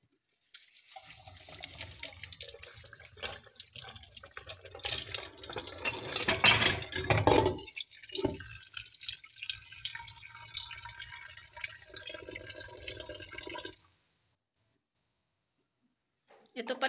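Tap water runs into a kitchen sink while things are washed, a continuous splashing stream with uneven surges and drips that stops abruptly near the end before a brief noise returns.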